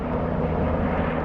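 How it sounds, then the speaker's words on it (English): A helicopter passes nearby over Broome, Western Australia, giving a steady, loud low engine and rotor drone that fills the whole short stretch with no voices. "There's a lot of helicopter activity."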